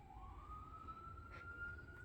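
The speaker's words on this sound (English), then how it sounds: "And the sirens are agreeing with us this evening." An emergency vehicle siren from a nearby highway wails in the evening, one steady rising and sustained tone that sounds distant but clear over a low rumble of background noise.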